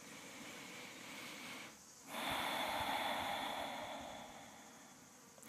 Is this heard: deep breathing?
yes